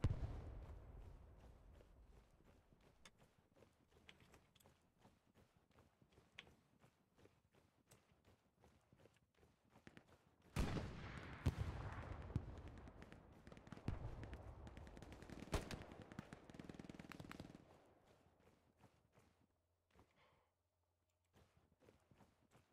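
Gunfire in the video game Hell Let Loose: scattered distant shots through the first half, then a louder burst of close, rapid shooting midway that thins out into quiet, with no talk.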